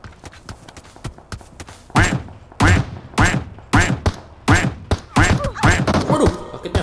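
A series of heavy, sharp impact thuds from gunshots hitting a player in PUBG, about a dozen loud, close hits arriving in irregular quick succession.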